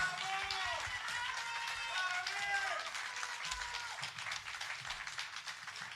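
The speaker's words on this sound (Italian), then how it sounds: "facciamogli un grande applauso" A concert audience at a music venue applauds a pianist with a steady wash of clapping, joined by cheering voices and whoops early on before the clapping continues alone.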